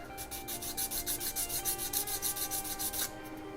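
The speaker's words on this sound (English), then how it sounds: "do a bit more sanding" A sanding stick rasps back and forth across a 1/24 scale plastic Messerschmitt 109 G-2 model kit in quick, even strokes, about a dozen close scratchy passes before slowing at the end.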